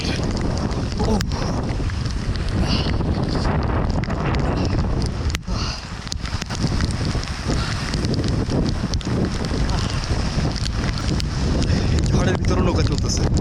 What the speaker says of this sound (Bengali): ঝড়ের ভিতরে নৌকা চলতেছে আর প্রচন্ড বেশি